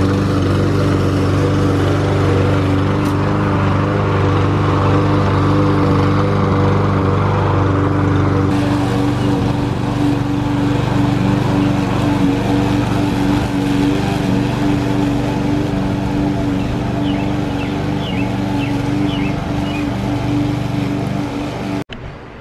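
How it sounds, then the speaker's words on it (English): A lawn mower engine drones steadily and loudly outdoors for the whole stretch, with a slight shift in tone partway through and a brief fade at the end. "So Ralphie's out mowing with Brad"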